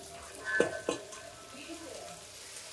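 Chickpeas (gudalu) frying and being stirred in a pan with a soft sizzle, a few sharper scrapes of the spoon against the metal near the start, and faint background voices.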